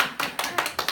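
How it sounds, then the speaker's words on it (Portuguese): Several short bursts of quiet clapping in quick succession, a soft, gentle round of applause from a small church congregation during a sermon. "dá uma salva de palmas baixinha"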